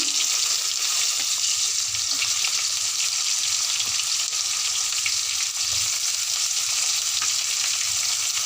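Chopped onion fries in a pan, with a steady close sizzle throughout and soft scraping thumps as it is stirred, no voices.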